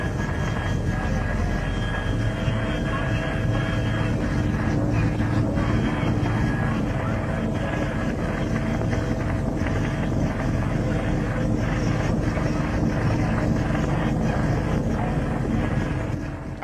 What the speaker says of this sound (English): It's just the helicopter